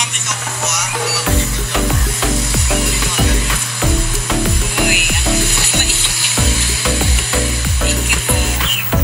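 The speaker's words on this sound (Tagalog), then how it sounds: "pina-experience sa akin ni Kuya na bantay kung paano kunin ang helmet na sinasanitize sa loob ng machine" A helmet-sanitizing vending machine dispenses a helmet, giving rapid mechanical ratcheting clicks and clunks that repeat steadily for several seconds over a constant low motor hum, close and loud.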